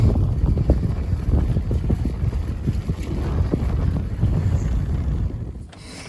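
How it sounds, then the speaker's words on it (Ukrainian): Wind buffets the microphone in heavy, gusting low rumbles that roar continuously and then ease off at the end. "Вітер."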